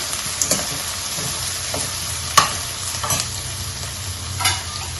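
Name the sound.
sautéing thinly sliced ingredients in a pan for salmon curry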